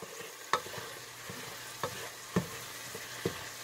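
Garlic frying in a pot for pumpkin sausage soup, a soft, steady sizzle broken by a few sharp knocks and scrapes of a stirring utensil, close and fairly quiet, with no one speaking.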